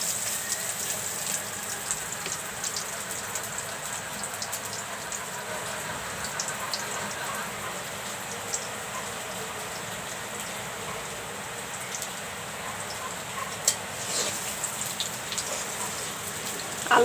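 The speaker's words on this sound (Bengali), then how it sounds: "বাইরে বৃষ্টি হচ্ছে অনেক।" Heavy rain falls steadily outdoors during a humid hot spell in Bangladesh, a dense continuous hiss of drops on surfaces with no break, with a few faint knocks near the end.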